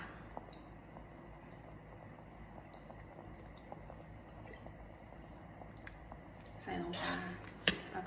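A spoon stirs Thai clear omelette soup in a pot, giving soft continuous swishing and faint clinks over a steady low bubbling simmer, quiet and close, with a brighter scrape of metal on the pot near the end.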